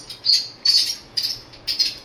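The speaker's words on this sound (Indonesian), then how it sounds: "Burung." Four bright, high chirps from a bird, evenly spaced at roughly half-second intervals, each a short trill standing out against a quiet, hissy background with no voices.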